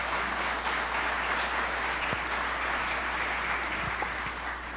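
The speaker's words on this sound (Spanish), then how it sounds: "Denle un aplauso al Señor por eso esta mañana." A church congregation claps together during a Sunday morning sermon, a continuous, moderately distant wash of applause over a low steady hum.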